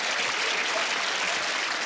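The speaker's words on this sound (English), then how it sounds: "You clapped, but he didn't like that." A comedy club audience claps in a dense, even burst of applause that lasts a couple of seconds, heard from within the crowd with no voices over it.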